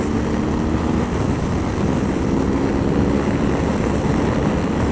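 A BMW R1200GS motorcycle accelerates hard to overtake on a road, a loud continuous engine drone mixed with heavy wind rush heard from the rider's position, steady throughout with no talking.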